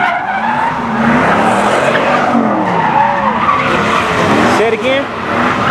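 Car tires squeal and skid continuously during donuts and drifting at a donut contest, with engines roaring loud and close as voices talk over the din.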